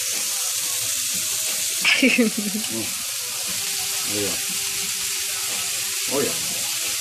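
Ackee and saltfish fry in coconut oil with a steady, close sizzling hiss. Brief bursts of conversation break in over the crackle.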